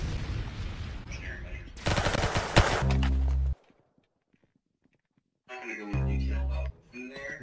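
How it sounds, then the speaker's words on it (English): Pepper gun shooting in the Roblox game Arsenal, two loud stretches of rapid-fire shots separated by a quiet gap, with low thumping impacts and some noisy game sound mixed in. "This pepper gun sucks."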